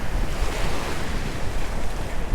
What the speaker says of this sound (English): waves are about 1 to 2 foot